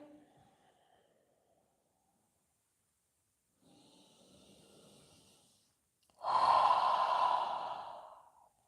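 Deep, slow breathing during a yoga stretch: a soft breath at the start, a quieter one around the middle, then a loud, close exhale sighing out for about two seconds near the end.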